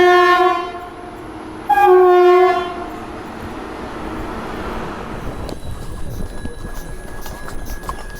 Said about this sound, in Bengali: তো এই যে আমাদের নেক্সট ট্রেন চলে এসছে